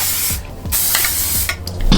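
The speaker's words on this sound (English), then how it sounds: "I'm gonna spray it with the Got2b Beach Trippin' spray." A texturizing aerosol hair spray hisses in several short bursts separated by brief pauses, close and loud, with small rustling sounds between.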